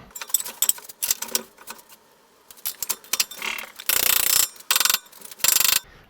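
A ratchet tightens strut bolts during a strut conversion on a 2007-2013 Acura MDX, giving bursts of close, rapid clicking with short pauses between runs, louder toward the end.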